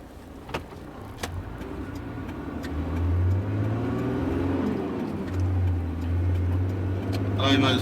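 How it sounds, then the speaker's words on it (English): Cars pass close behind on a road through the small town of Bororen in Queensland, a low engine rumble swelling and fading over several seconds amid light ticking and rustle inside the vehicle. "Let these cars behind us go through."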